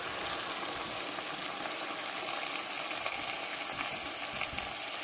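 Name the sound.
mushroom soup sizzling in frying pan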